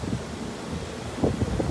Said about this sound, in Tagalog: Lakas ng hangin pa.